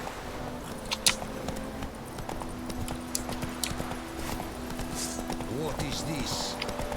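Roach, the horse in The Witcher 3, trots with steady clip-clopping hooves under game ambience while a voice speaks briefly.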